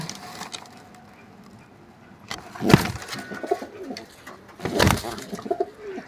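Pigeons coo in a loft that also holds chicks, with soft calls scattered across the clip and two louder bursts of cooing close to the listener.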